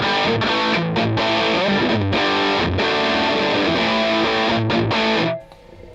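Heavily distorted electric guitar through a Two Notes Torpedo Cab M with no reverb, dry and upfront, loud continuous riffing with rhythmic palm-muted chugs that cuts off abruptly near the end.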